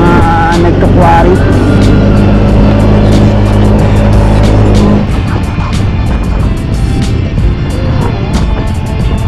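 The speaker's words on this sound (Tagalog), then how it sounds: "may mga truck na malalaki dito" Large quarry trucks rumble loudly past on a dusty mountain road near a mining site, a heavy engine drone that fades after about five seconds into gusty wind and rougher road noise.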